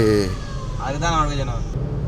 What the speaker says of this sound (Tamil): ஆம்புலன்ஸ் சார் தானே?